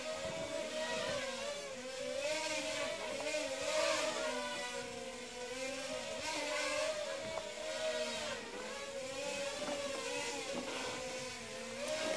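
FPV racing drone motors whir steadily through a funnel turn, a continuous buzzing tone that rises and dips in pitch as throttle changes, close and constant for the whole stretch with no talk.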